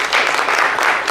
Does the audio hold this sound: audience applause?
yes